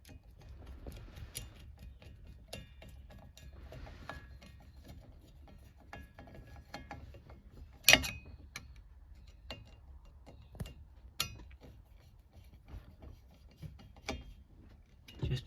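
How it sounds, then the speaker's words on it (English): Small screws being turned into a horn contact assembly from a Holden FB/EK in a shed, producing faint, sparse metallic ratcheting ticks and clicks over a low background hum, with one sharper click partway through. "Now we can screw them all the way up."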